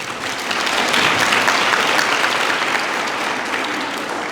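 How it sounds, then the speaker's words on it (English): Graduation farewell audience at a grade 11 ceremony breaks into steady, dense applause, many hands clapping together at moderate loudness for several seconds without pause. "And can you clap hands for them?"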